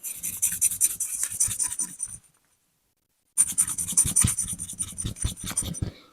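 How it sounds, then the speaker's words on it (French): Cleaning product is rubbed back and forth on the slide of a Keltec P17 pistol, a close, rapid scrubbing rasp in quick strokes that stops for about a second before resuming. "Je frotte bien recto verso"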